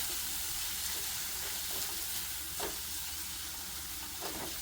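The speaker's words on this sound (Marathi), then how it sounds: "जो आपण खरडा वाटून ठेवलेला होता आलं लसूण कोथंबीर ते आता आपण टाकून घेतो असं आणि आता हे असं परतून घ्यायचं" A ground kharda of ginger, garlic and coriander sautéing in a pan for a spicy prawn dish, a steady low sizzle with occasional stirring scrapes, close and continuous.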